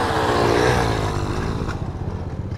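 A dirt bike engine revs loud and close while climbing a trail, its note shifting and warbling as the throttle opens and drops.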